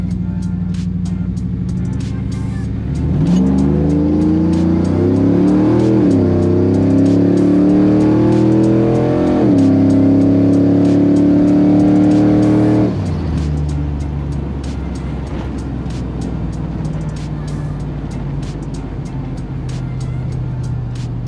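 Stock LQ4 6.0-litre Chevrolet Silverado pickup brake-stalled to about 3,000 rpm and launched off the line: a loud steady engine drone swells into a rising, shifting roar for about ten seconds, then drops back to a steady hum.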